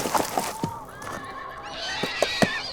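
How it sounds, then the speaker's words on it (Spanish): Two horses whinny and rear in a dramatized scene, with sharp neighs sounding close and a few hoof clatters in between, with no voices heard. "Pero los 2 caballos se encabritaron y estuvieron a punto de tirarnos al suelo."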